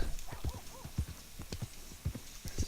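Hooves of a heavily built horse in Red Dead Redemption 2 clip-clop in a steady, close, fairly loud rhythm, with a brief snort or whinny-like sound near the start.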